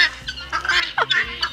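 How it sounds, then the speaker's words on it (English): Backyard chickens cluck close by at treat time, a short run of quick, choppy clucks and one rising squawk. "Is Daddy giving the chickens a treat?"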